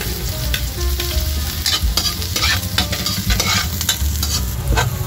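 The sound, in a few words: garlic sizzling in cooking oil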